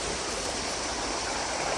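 Clear creek water flowing steadily at a creek crossing near a waterfall in Australia, a continuous broad rushing wash, close and even, with no voices.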